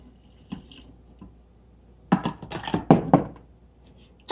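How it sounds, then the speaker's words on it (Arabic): Water is poured in for blending homemade milk, heard as a close burst of splashing and gurgling pours in a kitchen after a few faint clicks, with no talking. "تزيدوا لي داك الكميه ديال 6 الكيسان ديال الماء باش يطحن كله"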